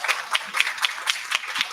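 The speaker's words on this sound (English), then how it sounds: "Could you just kindly give her a round of applause" Steady applause from a crowd, many hands clapping in a dense, continuous patter at moderate volume.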